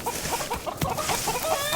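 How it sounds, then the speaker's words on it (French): Hens cluck in a short burst of repeated clucks, close and lively, over a faint farmyard background. "nos chères poules sont pleines de vivacité"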